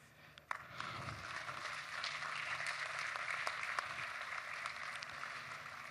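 A hall audience applauds at a closing ceremony as an honorary trophy is handed to a president, steady dense clapping that holds at an even level throughout.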